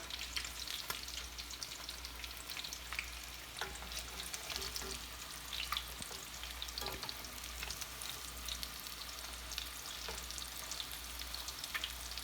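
Chicken rolled tacos fry in a pan of oil, a quiet steady sizzling crackle with scattered pops running throughout, no talking.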